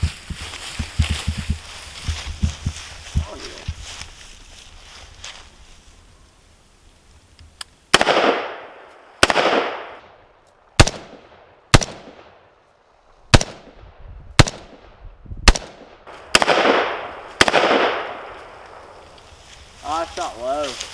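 Gunshots from a firearm fitted with offset iron sights: a string of about ten sharp, loud reports at uneven intervals after a quieter stretch of handling noise and faint talk.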